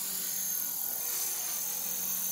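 A model helicopter flies with a steady high-pitched electric whine and buzz, moderately distant and unbroken, with no speech.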